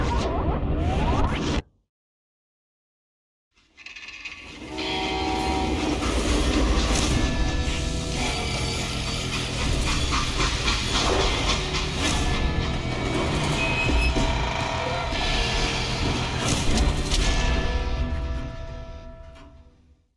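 A train in the Western shooter Call of Juarez: Gunslinger roars loudly and closely with rumbling wheels and rattling clatter after a brief silence, holding steady before fading at the end.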